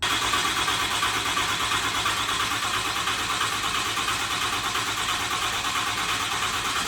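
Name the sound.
truck engine starting after monster ram intake install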